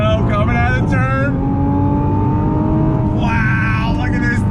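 A 2020 Nissan GTR 50th Anniversary Edition accelerates out of a turn, its engine roaring loudly and climbing steadily in pitch, with someone talking over the noise.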